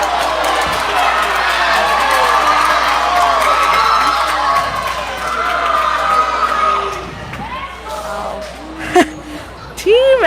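A high school boys basketball crowd cheers and shouts wildly during a timeout, loud sustained roaring with children's whoops and scattered yells, the din easing slightly then swelling again with sharp shouts near the end.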